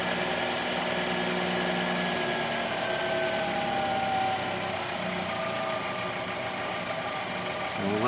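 A 2013 Chevrolet Spark engine idling during a transmission flush: a steady, close, even hum running continuously with a slight drop in level midway, no talking.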